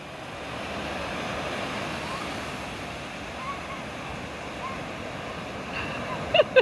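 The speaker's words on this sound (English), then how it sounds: "Jack's having a lot of fun splashing Naz." Children splash in water. A steady wash of water noise runs throughout, with faint voices and a couple of sharp, close splashes near the end.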